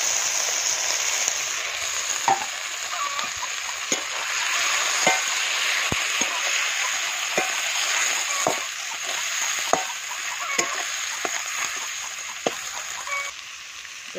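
Onions and spices frying in a pan for a meat curry, a steady bright sizzle with scattered clicks and taps of stirring, near and alone.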